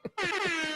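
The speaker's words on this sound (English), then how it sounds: "That deserves an air horn." A short, brassy air horn blast, loud and close, held steady after a brief sputtering start.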